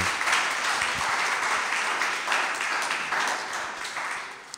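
Audience applause for Mitsu Haïti at a talk, a dense, steady wash of many hands clapping that holds for several seconds at a moderate level, with no voices over it.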